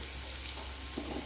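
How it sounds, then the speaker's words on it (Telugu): Onion, green chili and curry leaves fry in a pan for leftover-idli upma, giving a short, steady, soft sizzle with no voices. "ఉల్లిపాయ పచ్చిమిరపకాయలు వేసుకోవాలా. దాని తర్వాత కొంచెం కరింపాకు వేసుకోవాలి. ఇది బాగా వేగాల."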